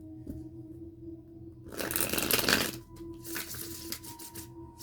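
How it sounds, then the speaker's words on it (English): A soft rustling flurry of tarot cards being shuffled, two brief bursts close by in an otherwise quiet room with a faint hum. "we are going to go ahead and start shuffling"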